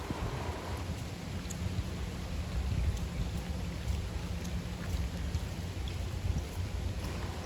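Light drizzle falling in Lodi Garden, a park in Delhi, in March, a steady soft rain hiss on wet ground with a low rumble underneath, continuous and even throughout.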